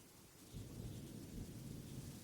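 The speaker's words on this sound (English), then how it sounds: "The clouds gather, and you can feel the intensity of the storm as its fierce winds whip around you." Thunderstorm ambience with steady rain and low rumbling thunder that swells after a soft start and then holds as a continuous deep roar, heard alone with no voices.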